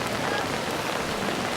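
Heavy rain pours down in a dense, unbroken hiss, loud and close, with no gaps or other sounds through the short stretch.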